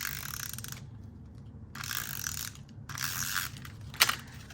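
A paper trimmer slices paper for a holiday album in three ratcheting, gritty passes up close, each about a second long, ending with a sharp click.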